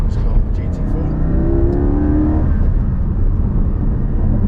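A 2021 Porsche Cayman GT4 engine pulls under acceleration, heard from inside the cabin as a steady rising drone with a brief gearshift, while someone talks over it.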